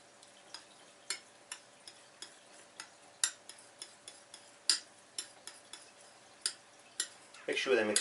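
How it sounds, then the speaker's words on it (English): Ultramarine blue and burnt umber acrylic paints are mixed together on a palette with a brush or knife, producing a run of sharp, evenly spaced taps and dabs, close and quiet, then a short rustle at the end. "Bit of ultramarine blue, bit of burnt umber, and you mix them together."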